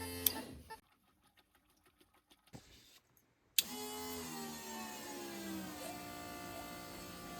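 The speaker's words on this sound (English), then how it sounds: "we've got the fuel pump turning on with this little jobby" An electric fuel pump on a car converted from EV to petrol switches on with a sharp click and settles into a steady mechanical whine, close and fairly loud, after a brief stretch of quiet clicks.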